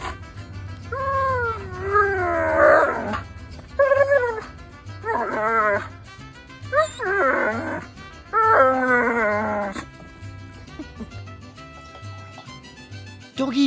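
A German shepherd dog howls and yowls in several drawn-out, wavering bursts separated by short pauses, loud and close, over a steady low hum in the background.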